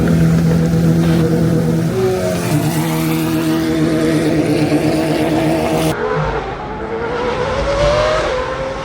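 A Lamborghini Sesto Elemento hypercar engine runs at idle, a loud, close, steady mechanical drone with a brief rise in pitch before settling again, heard alone without talk.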